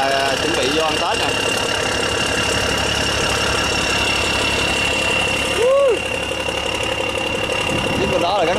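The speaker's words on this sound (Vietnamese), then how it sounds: "Chiếc bên đó là gắn động cơ Cummins N14 nha các bạn" A Cummins N14 diesel engine in a boat at sea drones steadily and loudly, with a low rumble and a constant tonal whine throughout, and a brief rising tone partway through.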